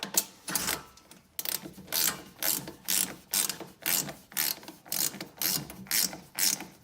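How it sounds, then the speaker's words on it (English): A small ratchet wrench tightens hardware on a Jeep Wrangler JL rear door folding table MOLLE panel, clicking in a steady series of close, rhythmic bursts, roughly one every half second. "little ratchet wrench to get the final tightening in."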